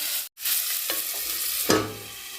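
Mutton stir-fried and braised in a pan gives a steady close sizzle with stirring, a brief gap early on and a sharp scrape of the spoon toward the end.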